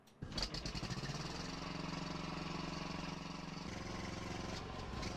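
In Farming Simulator 19, a small donkey engine on a truck sputters to life and settles into a rapid, steady chugging putter, close and continuous.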